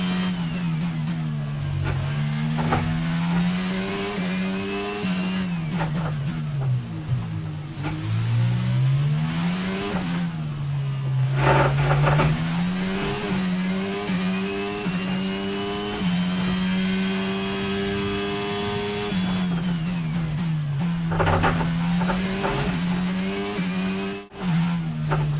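Formula 1 car engine at full throttle around the Monaco street circuit in the F1 22 racing game, a loud continuous high-revving whine that rises and drops with gear shifts and braking, with occasional tire squeal and no talk.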